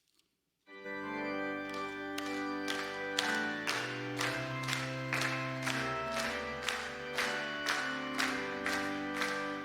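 A church congregation at a Wednesday evening service claps in steady rhythm while an organ or keyboard plays hymn 505, with regular claps about every half second over sustained chords, moderately loud and reverberant.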